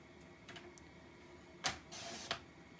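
A paper trimmer slices card stock with a few light clicks, then a sharp snap and a short sliding cut followed by another click, close and fairly quiet with no talking.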